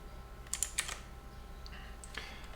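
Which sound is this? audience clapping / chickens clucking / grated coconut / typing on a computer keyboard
typing on a computer keyboard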